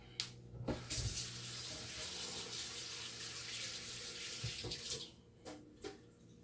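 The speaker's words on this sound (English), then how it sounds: "Wash our hands" A kitchen tap runs steadily as hands are washed under it, the water hissing and splashing close by, with a few sharper knocks and clatters toward the end.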